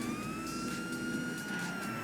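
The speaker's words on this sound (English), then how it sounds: "when it hears a siren like that, look." Police siren from the video game GTA V, a steady wailing tone sweeping slowly, heard alone over low traffic and engine rumble at moderate loudness.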